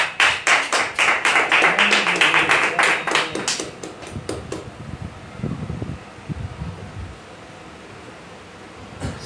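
A church congregation claps loudly together in a fast, even rhythm that fills the room, then trails off into scattered claps and quieter rustling over the last few seconds.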